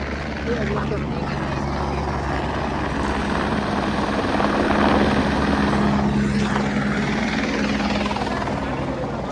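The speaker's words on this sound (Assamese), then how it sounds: "সেই হেলিকপ্টাৰ আহিল।" A helicopter flies at Kedarnath, its rotor beating in a loud, steady drone that swells slightly in the middle while people talk over it.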